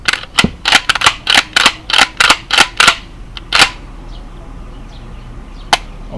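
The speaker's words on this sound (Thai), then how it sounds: "เดี๋ยวเราลองขึ้นลำอีกรอบนึงนะครับ" A pump-action shotgun is racked repeatedly, a string of about ten sharp, close metallic clacks in quick rhythm, then a pause and one more clack, with no talking.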